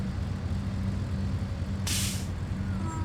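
Just Flight Dove flaps retracting in the Prepar3D flight simulator, a sudden loud airy hiss cutting in over the steady low engine drone for about half a second before fading away.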